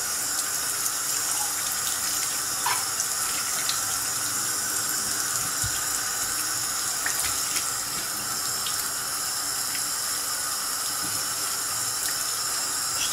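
Hot tap water runs steadily from a faucet into a sink while a straight razor is rinsed, a continuous close hiss and splash throughout with occasional small clinks.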